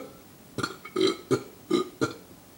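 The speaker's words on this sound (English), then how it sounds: "we had a burping contest" A young person burps loudly on purpose, five separate belches in quick succession over about two seconds, close up with nothing else heard.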